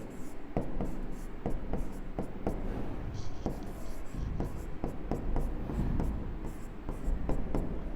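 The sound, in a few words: writing on a board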